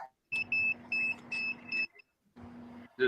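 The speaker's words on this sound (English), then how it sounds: "The dogs heard my car alarm." A car alarm chirps in a quick series of bright, evenly pitched electronic beeps, a short pause, then one more beep, moderately loud with no speech over it.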